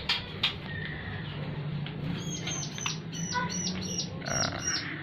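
Nine-day-old prinia (ciblek) chicks in a nest inside a house give rapid, high, thin chirps in short bursts, fairly faint and close, over a low background hum.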